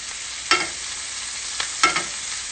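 Fish cooking in a pan of thyme and garlic butter, with a steady broadband sizzle and a few louder crackling bursts as the butter is stirred or spooned.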